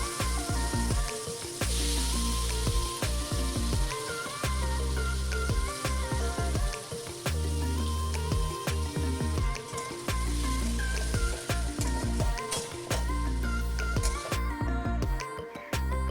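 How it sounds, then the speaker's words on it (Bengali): Shrimp fry in hot mustard oil with a continuous loud sizzle and crackle, spattering pops scattered throughout, with no one speaking. "প্রথমে চিংড়ি মাছগুলো ভালো করে ভেজে নেব"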